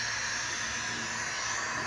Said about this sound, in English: you switch it on and then it makes a hissing sound